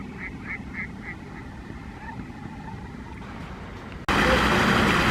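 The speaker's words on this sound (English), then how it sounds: "the old Mandarin duck's getting a bit stroppy" Mandarin duck in a park pond in December chasing other ducks away from its mate, with a few short quacking calls early on over steady outdoor noise, then a sudden loud broadband rush of wind or water.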